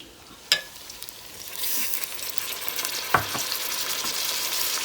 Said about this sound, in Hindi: और आलू फ्राई हो रहे हैं।